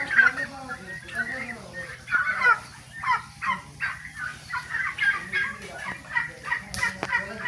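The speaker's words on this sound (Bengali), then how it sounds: "দেখেন টার্কি আর টার্কি।" A flock of turkeys gobbling repeatedly in bursts, close and fairly loud, with some speech mixed in.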